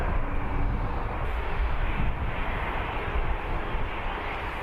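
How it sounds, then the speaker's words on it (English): An Airbus A380 from Dubai arriving at Birmingham Airport produces a steady, broad jet roar at moderate distance, holding level for several seconds with no talk. "next in is the A380 from Dubai."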